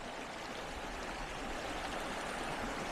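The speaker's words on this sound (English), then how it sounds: "Got a lot of running water right here" A mountain stream near Piedra Falls runs steadily close by, a constant broadband rushing and gurgling of water with no voices.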